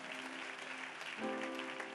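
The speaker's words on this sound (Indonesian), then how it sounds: "Berikan tepuk tangan sekali lagi buat Tuhan." Church congregation applauding during a Christmas candle service, a continuous, fairly soft spread of clapping blended with sustained musical tones underneath.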